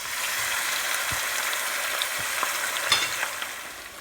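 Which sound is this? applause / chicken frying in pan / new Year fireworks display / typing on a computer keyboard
chicken frying in pan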